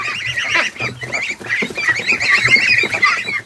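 Close geese honk in a busy, overlapping chorus, calls rising and falling in quick bursts throughout with no voices heard.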